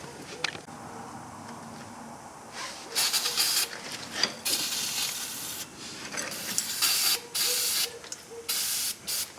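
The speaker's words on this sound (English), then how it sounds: "Some more brake clean." Brake cleaner hisses from an aerosol can onto the rear brake parts of a 2005 Chevrolet Suburban 1500 4x4. The close, loud spray comes in repeated bursts of a second or two, separated by brief pauses with faint handling noises.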